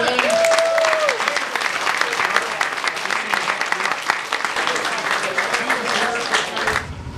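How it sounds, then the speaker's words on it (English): Loud, dense applause from an audience at a charity fishing tournament honoring organizers Mitch and Tim, steady clapping filling several seconds with a brief whistle at the start, then fading out at the end. "We have a round of applause for them."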